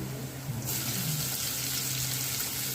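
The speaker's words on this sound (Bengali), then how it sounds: "রসুন দিয়ে দিলাম, রসুনগুলো বাজাবো।" Garlic fries in a pan with a steady, soft sizzle and crackle that holds evenly throughout, with no voices.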